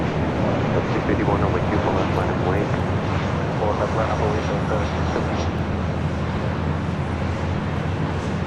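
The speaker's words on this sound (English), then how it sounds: "That was the Southwest flight coming in from Vegas" A Southwest Airlines jet arriving from Las Vegas at LAX at night, a steady broad engine roar that holds loud and close throughout, with a voice talking over it.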